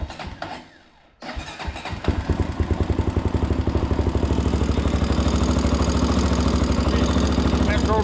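A 2004 Honda TRX416EX ATV engine cranks over after a quiet moment, catches and settles into a steady, rhythmic, loud putter up close, running continuously after maintenance and a K&N filter service.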